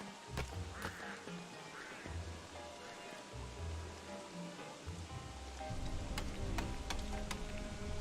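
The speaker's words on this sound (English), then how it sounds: "it's going to be raining and snowing at the same time?" Steady rain falls in the video game Don't Starve Together, a broad wash of noise with rumbling low layers and scattered sharp ticks, growing louder near the end.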